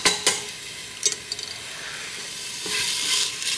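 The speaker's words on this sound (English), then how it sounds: "So I'm gonna add the onion." Chopped onion goes into a hot heavy-duty pressure cooker pot and sizzles with a steady frying hiss. A few sharp clinks of a utensil against the pot sound near the start, and stirring scrapes come and go.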